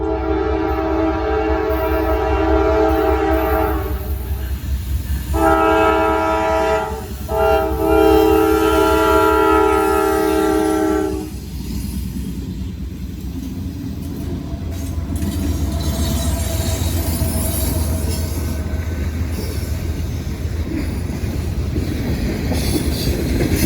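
A CSX freight train with distributed power units passes a crossing with gates down, sounding a loud multi-note horn in long blasts before the rolling rumble, wheel squeal and clatter of freight cars take over at close range.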